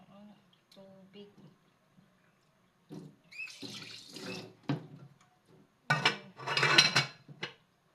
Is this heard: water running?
yes